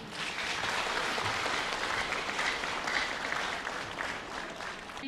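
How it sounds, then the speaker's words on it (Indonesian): An audience at a 2018 Prabumulih mayoral and deputy mayoral public debate breaks into loud, sustained applause, a dense continuous clapping that fills the whole stretch without speech. "Hadirin, tepuk tangan yang meriah."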